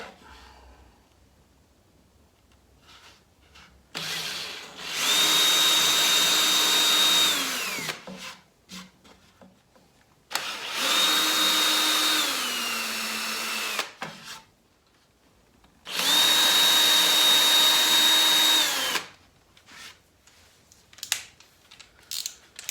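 A power drill whines in three sustained bursts, its pitch dipping as the bit bores into wood, with quiet gaps and small clicks between runs.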